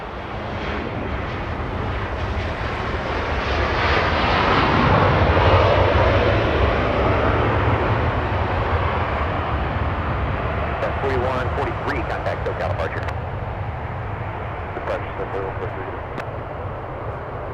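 A Boeing 777 departs Los Angeles airport heading north, its engine roar swelling to a loud peak and then slowly receding, with a voice talking over it.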